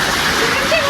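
Water pouring heavily onto a vehicle, a loud continuous rushing splash across the whole short moment.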